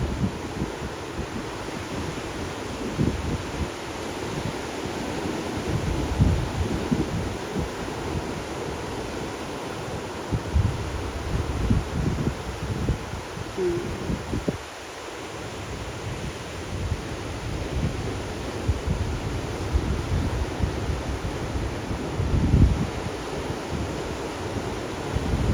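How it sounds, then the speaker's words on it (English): Big ocean waves cresting at a beach in Waikoloa, Hawaii, a continuous rushing surf roar with irregular surges and wind buffeting the microphone, no voices. "Look how many waves there are actually being crested at once."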